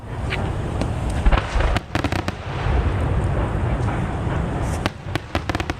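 Fireworks bursting in a dense, continuous barrage, with sharp cracks and booms piling over a steady rumble, loud and close, with no talk.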